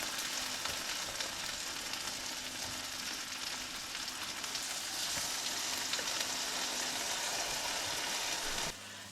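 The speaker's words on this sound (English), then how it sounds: "we'll just quickly fry these on both sides until they are nice and brown" Baltic herring fillets frying in butter in a pan, producing a loud, steady, close sizzle that carries on evenly until it drops off at the very end.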